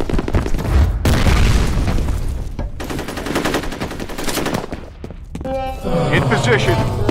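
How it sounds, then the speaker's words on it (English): Gunfire and a grenade blast in the shooter game F.E.A.R.: bursts of rapid automatic fire with a heavy boom, loud and close, followed by metallic ringing debris near the end. "Grenade out!"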